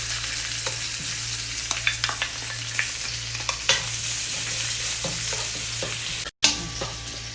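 Chopped garlic and dried red chilies fry in a pan for a traditional Kerala prawn roast, giving a steady close sizzle with scattered crackles and light stirring scrapes throughout, one brief dropout near the end and no talking.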